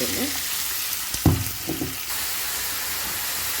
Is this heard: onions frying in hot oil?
yes